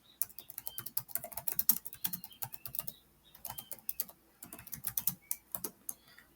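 Bursts of fast typing on a computer keyboard, close and crisp clicking in uneven runs separated by short pauses, with no talking.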